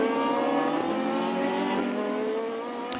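Radical sports racing cars scream past on the Jerez circuit during a European Masters race, a loud, sustained high-revving engine whine with shifting pitch that fades slightly toward the end.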